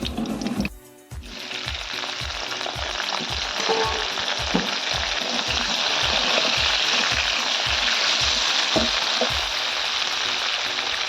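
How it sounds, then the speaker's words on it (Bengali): Brinjal and potato pieces frying in hot oil in a wok, a steady close sizzle and crackle running throughout with a regular soft pulsing beneath, no voices. "এবার বেগুনটা ভালো করে ভেজে নেওয়া হবে, বেগুন আর আলুটা।"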